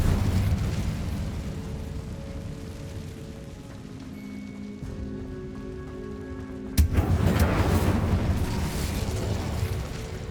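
Incendio fire spell cast in the Hogwarts Legacy video game, heard as a sudden loud whooshing burst that erupts from an ongoing rumbling, rain-like game ambience with tonal music, then a sustained roar of crackling flame.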